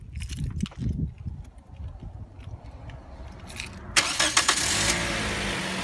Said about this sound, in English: So I'm gonna go ahead and start my car from right here.